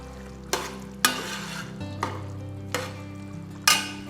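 Beef curry in a pan with coconut oil being stirred, Kerala style, with sharp scraping strokes of a spoon against the pan roughly every half second to second over a low sizzle, no talking.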